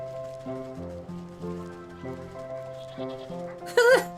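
Cute rainbow sheep in the video game Wytchwood give a quick high bleat near the end, standing out over gentle looping background music with a soft pattering texture.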